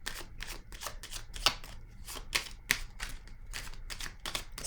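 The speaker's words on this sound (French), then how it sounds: "Je vais piger une autre carte ici." Tarot cards are shuffled and drawn by hand, a rapid close run of crisp riffling flutters and snaps repeating in quick bursts.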